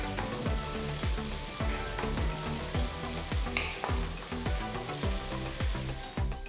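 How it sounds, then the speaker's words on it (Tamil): Chopped onions and cumin sizzle and fry steadily in hot oil in a wide kadai, with a continuous crackling hiss and repeated stirring scrapes coming through close and loud. "3 மீடியம் சைஸ் வெங்காயம் பொடியாக நறுக்கினது சேர்த்து 5 நிமிஷத்துக்கு வதக்குங்க"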